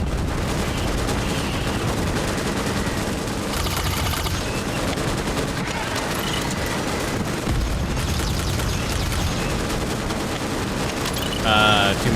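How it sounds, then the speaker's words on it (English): Sustained bursts of machine gun fire from a bug-killing video game rattle on continuously at steady loudness, layered with dense game effects and a short sharper burst near the end. "Two machine guns."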